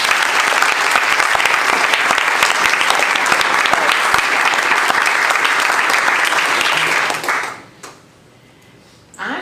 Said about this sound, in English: Let's give her a clap now.